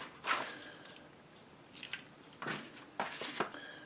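Wet squishing and slapping as strips of beef for homemade jerky are pressed into a marinade, a few short bursts close by with quiet pauses between.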